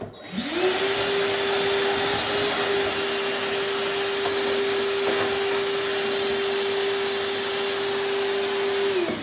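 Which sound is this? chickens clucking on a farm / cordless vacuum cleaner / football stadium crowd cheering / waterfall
cordless vacuum cleaner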